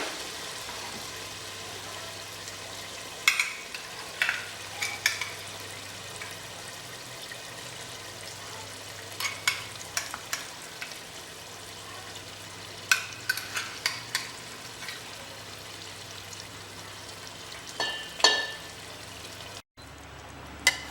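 Marinated chicken is stirred into sizzling ground-spice masala, a low steady fry under repeated clattering scrapes and knocks of a spoon against the pan, close by, no talking.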